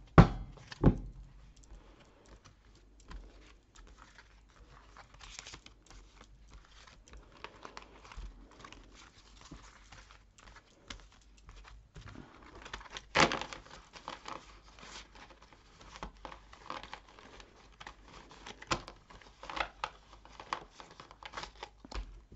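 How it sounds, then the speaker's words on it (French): Tarot cards are shuffled by hand nearby, making quiet, irregular rustles, soft slaps and light taps scattered across a hushed background. "je vais les mélanger comme on doit le faire pour un tirage de tarot avant chaque tirage"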